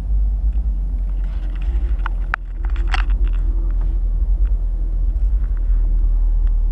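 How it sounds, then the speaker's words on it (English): A deep, steady exhaust rumble comes from a 2017 Chevrolet Camaro 2SS convertible, idling close by with a sharper tick or two partway through and no voices over it. "You get a very nice deep sound."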